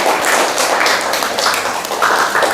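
Junior high classroom of seventh graders clapping for a classmate: a brief, dense patter of many hands, steady and fairly loud throughout, with no talking over it.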